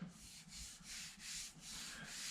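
Faint, dry rubbing of a hand across the untreated painted fender of a 1987 Saleen in slow, repeated back-and-forth strokes, heard alone.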